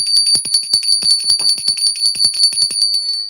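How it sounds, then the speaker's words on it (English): A bell rings in quick repeated strokes for a few seconds, bright sustained tones ringing on over a steady rhythmic tapping, close and loud with no talking. "I'm going to be ringing the bell briefly"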